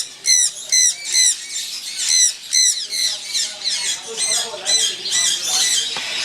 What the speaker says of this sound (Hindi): सन कनौर जो शोर बहुत ज़्यादा करते हैं